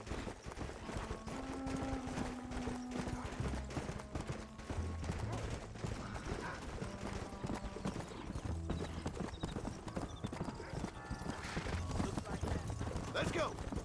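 Horse hooves clip-clop steadily in a Red Dead Redemption game scene, a continuous rhythmic gallop up close with a brief whinny, layered under game music and occasional speech.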